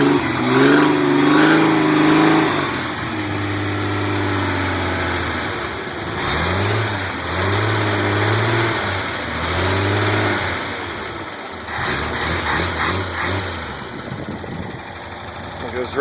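A 1986 Jeep CJ7 engine with a Weber 32/36 carburetor and ceramic-coated header runs after a cold start, revving up in several swells and dropping back to a steady, smooth idle, close and loud throughout.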